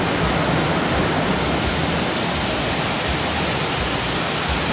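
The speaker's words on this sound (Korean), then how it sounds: "이 계곡의 폭포 소리 들어보세요" A waterfall on Juheulsan in Mungyeong roars through a mountain valley, a loud, unbroken rush of falling water that fills the whole scene with no voices over it.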